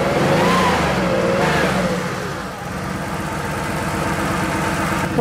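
A Porsche 3.2 Carrera engine runs loud and close, revving hard at first, then settling into a steady, throbbing idle with a brief blip at the very end.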